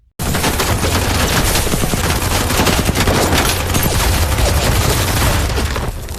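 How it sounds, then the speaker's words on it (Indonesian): A loud, continuous barrage of rapid gunfire from soldiers shooting at a car in a war zone, dense overlapping shots filling the whole stretch without a pause, close and intense. "Beberapa tentara Rusia tiba-tiba melepaskan tembakan ke arah mobil mereka"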